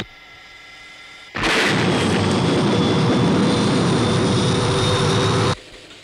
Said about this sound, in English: Paul, there's another aircraft